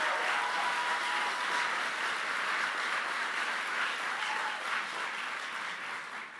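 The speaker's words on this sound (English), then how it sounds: "he stood up and clapped for that" A political rally crowd in Rocky Mount, North Carolina, breaks into sustained applause, a dense steady roar of many hands clapping at a distance that fades slightly toward the end.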